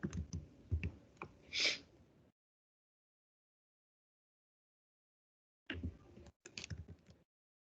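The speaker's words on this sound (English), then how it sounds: "Let me type that for you." Keys clatter on a computer keyboard in two short, quiet bursts of quick clicks, separated by several seconds of silence.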